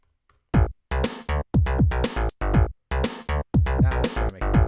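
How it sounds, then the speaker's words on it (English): A bass line and drum kit in a retro-styled song play back from production software, with punchy kicks and snares locked to a plucky bass in short, chopped bursts separated by brief gaps, moderately loud and free of talk. "So like say we had this, you know, bass line and drum kit here."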